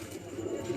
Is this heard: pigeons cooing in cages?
yes